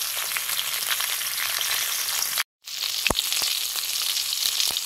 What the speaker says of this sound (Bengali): যা তেল দিয়েছিলাম এই তেলটাই আছে এখনো মাছগুলো সুন্দর ভাজা হয়ে গেল